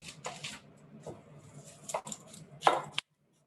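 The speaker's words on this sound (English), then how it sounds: "So either 2 small onions or 1 medium to large onion like this. So what we're going to do is give this a good dice." Knife dicing a medium-to-large onion on a cutting board in a home kitchen, heard as a few irregular close chopping taps and scrapes, with a sharper louder burst of cuts near the end before silence.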